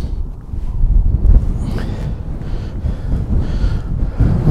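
Evening wind outdoors on a hillside above Keswick in the Lake District buffets the microphone with a constant low roar and gusty rumble. No voices.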